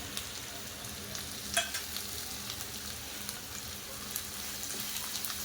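Tomatoes frying in a pan for a simple pulao, a steady soft sizzle running throughout with occasional faint clinks and stirring taps, no voices.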